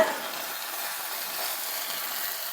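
Egg with chicken frying in a pan, a steady close hiss of sizzling oil with a brief scrape as the egg is turned over.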